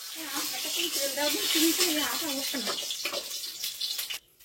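Fish frying in a pan in a home kitchen in the Sundarbans, a steady wet sizzle with water-like hiss running throughout, with a voice talking over it.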